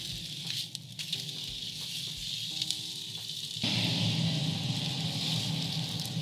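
Chicken frying in a pan, a steady close sizzle with crackles and pops that grows louder and fuller partway through as a fan starts up.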